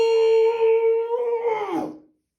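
A human voice imitates a wolf howling during a children's storybook reading of Little Red Riding Hood: one long, loud, sustained tonal howl that bends downward and fades out at the end.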